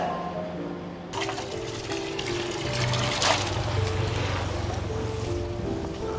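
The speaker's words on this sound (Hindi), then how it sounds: "आज तो पानी का प्रेशर ठीक आ रहा है।" Water from a household supply line gushes out under pressure, a steady broadband rush that starts abruptly after about a second and runs continuously, with faint background tones beneath it.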